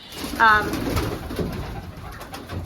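Archangel pigeons cooing from high perches, with a clear nearby coo early on, then softer cooing and rustling against a steady background.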